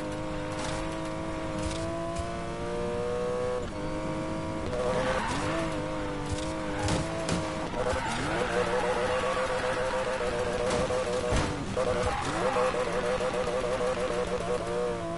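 In a car-racing video game, engine drone and repeated tire squeals fill the track as the race car slides through turns, a continuous loud mix of revving and skidding with someone talking over it.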